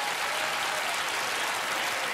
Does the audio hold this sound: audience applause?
yes